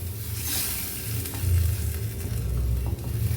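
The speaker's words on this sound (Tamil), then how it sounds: "இது நல்லா இப்போது கொதிக்கட்டும்." Spicy pirandai tamarind curry bubbling and sizzling in a pan, a steady close hiss with low popping boils running throughout, no talking.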